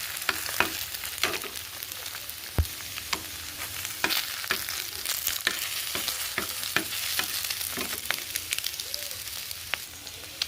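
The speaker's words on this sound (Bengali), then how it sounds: "আলু আর ডিমটা বেশ ভালো করে ফ্রাই করে নেব" Potatoes and eggs fry in a pan with a crackling sizzle, dotted with frequent sharp pops and spatters and occasional scraping stirs, close and fairly quiet.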